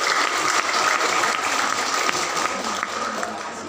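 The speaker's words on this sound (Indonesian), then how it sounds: "Tepuk tangan dulu buat teman-teman non PNS." Teachers at a district workshop in Bandung applaud together, a steady wash of clapping from a room of participants at moderate volume, with faint voices beneath.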